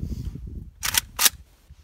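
Two sharp, loud cracks from an AK-47 firing 7.62x39 rounds into a tractor tire outdoors, close and distinct, spaced a fraction of a second apart.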